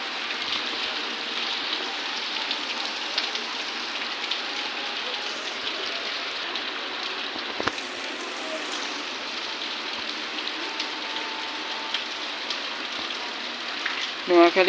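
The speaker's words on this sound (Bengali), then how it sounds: "বিকেল পাঁচটা গতিটার সময় এখনো বৃষ্টি হইতেছে" Steady heavy rain falls in Noakhali, a constant broadband hiss that holds evenly throughout, with a brief sharper knock midway and a short clatter near the end.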